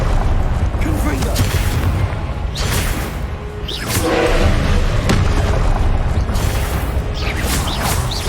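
Confringo fire-spell explosions burst repeatedly in Hogwarts Legacy: several loud, sharp blasts ring out a second or two apart over a dense, rumbling battle din with clanking effects.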